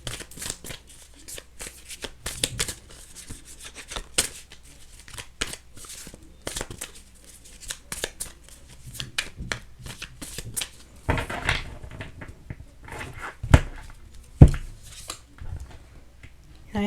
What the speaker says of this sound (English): need to shuffle some more